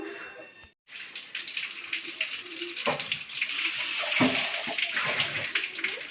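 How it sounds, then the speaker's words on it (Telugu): Tap water gushes and splashes continuously, with clinks of dishes being rinsed in a sink close by after a brief pause at the start. "బత్తన్స్ అన్నీ సాఫ్ చేస్తున్నాను గిన్నెలన్నీ కడిగేసుకోవాలి"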